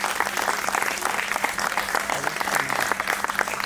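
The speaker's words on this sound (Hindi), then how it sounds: "जोरदार तालियों के साथ" Loud, dense applause from a crowd at a Deepawali celebration gathering, steady clapping filling the whole stretch without a break.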